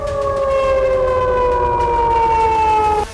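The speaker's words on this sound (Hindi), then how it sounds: "शाम से सायरन बजने शुरू हुए, पूरी रात बजते रहे" Air raid sirens wail across a Russian city under drone attack, a loud steady tone drifting slowly downward in pitch for about three seconds before cutting off, with no voices.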